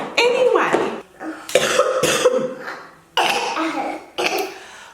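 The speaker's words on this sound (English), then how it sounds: "coughing fit." A close, harsh coughing fit from a woman 21 weeks pregnant: several bursts of repeated coughs with brief gasping pauses between them.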